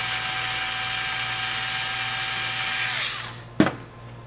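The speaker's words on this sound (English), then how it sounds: "So we're pulling the screws out." A small power screwdriver whines steadily while backing screws out of a Lumenier QAV-R FPV racing quadcopter frame arm, then spins down and ends with a sharp clack near the end.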